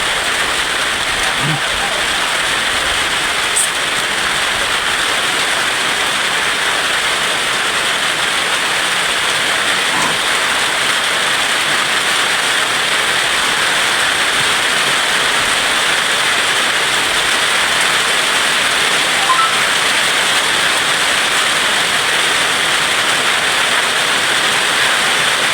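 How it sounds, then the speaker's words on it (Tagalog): Heavy rain pours steadily throughout, a dense continuous hiss close by with a few faint knocks, recorded during outdoor cooking of carabao bone-marrow soup. "Umuulan kasi dito."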